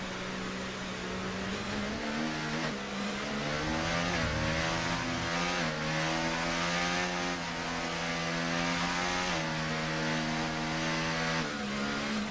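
Race cars in a Qatar racing game circuit circle slowly behind a safety car, a steady droning chorus of engine tones rising and falling in pitch as they lap, loud and continuous with no talk.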